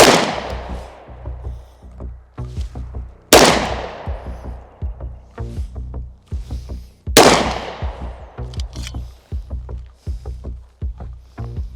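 Three loud, sharp pistol shots from a 1943 FN High Power ring out a few seconds apart, each decaying into an echoing tail, with softer clicks and handling noise between them.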